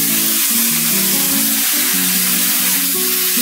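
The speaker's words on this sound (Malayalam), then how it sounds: "ചിക്കനും കൂടി ഇട്ട് കൊടുക്കാം. എന്നിട്ട് നന്നായിട്ടൊന്ന് മിക്സ് ചെയ്ത് കൊടുക്കാം." Chicken pieces with black pepper and onion sizzle and hiss in a hot pan while being stirred, with a steady close frying crackle and occasional scraping bumps, and no talking.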